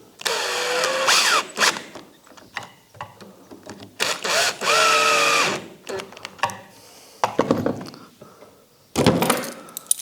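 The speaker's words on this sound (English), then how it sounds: "and then just drive the screws" Bursts of a power drill driving screws into a wooden face frame joint of a cabinet, several whirring runs with pitch rising as each screw seats, separated by clamp handling and workshop clatter.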